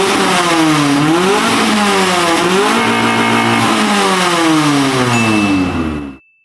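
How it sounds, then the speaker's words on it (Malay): Older Proton car with a custom 4-2-1 blast pipe stainless exhaust revving hard, loud and close, the engine note climbing and falling through several throttle blips before cutting off abruptly, with no talk. "Full custom stainless steel rear step. Exhaust 421 blast pipe. Inilah bunyi dia."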